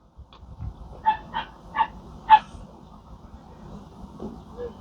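A small dog gives four short yips or barks spaced about half a second apart, moderately close, over a low background murmur.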